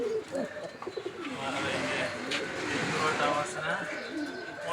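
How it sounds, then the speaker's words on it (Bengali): A pair of Afshan grizzle Banja pigeons coo softly and repeatedly, the low rolling calls steady against a busy background while a voice talks over them. "এইখানে দেখতে পাচ্ছেন এক জোড়া আফসান গ্রিজেল বানজা কবুতর"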